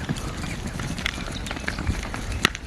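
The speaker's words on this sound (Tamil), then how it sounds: "மாடுகள் இந்த அளவுக்கு ஸ்பீடாக ஓடி இன்றைக்கி தான் பார்க்குறோம்." Hooves of a herd of cattle drum rapidly on the ground as they run past, a busy, continuous clatter with a few sharper knocks.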